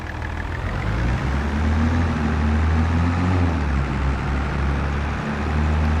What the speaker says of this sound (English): The sound of this Fiat tractor is really good.